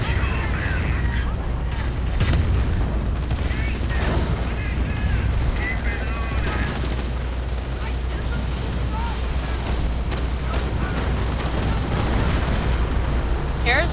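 Artillery strikes land amid tank combat in a World War II tank video game, with Sherman and Pershing tanks in play: dense, continuous rumbling blasts and gunfire booms, loud and steady throughout, with someone talking over them.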